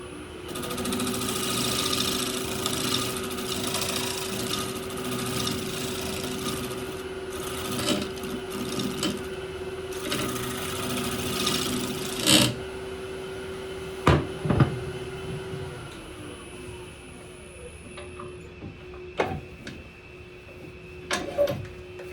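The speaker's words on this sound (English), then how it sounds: "I'm going to retreat to a round carbide scraper." A round carbide scraper works a cedar square bowl on a lathe, a steady hum with a whining tone running under bursts of scraping, then several sharp knocks and clacks as the cut stops and the motor winds down.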